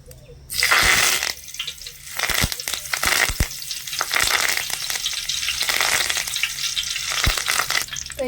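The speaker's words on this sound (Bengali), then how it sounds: "দেখুন কারি পাতাগুলো খুব সুন্দরভাবে ভেজে নিয়েছি" Curry leaves frying in hot oil give a loud, steady crackling sizzle, broken by sharp pops and stirring clatter through most of the stretch, with no voices.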